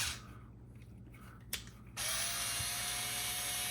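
A power ratchet tool tightening a 7mm nut on a radio-control crawler build, a quiet stretch followed by a single click and then a sustained loud mechanical whir and buzz that continues to the end.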